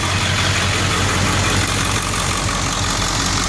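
A Ford 7.3 Powerstroke diesel engine with an injector fault runs steadily at idle, a loud, close, continuous rumble with no talk over it.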